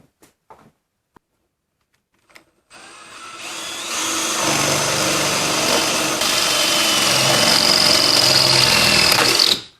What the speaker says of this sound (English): we just need to mark that hole with the drill.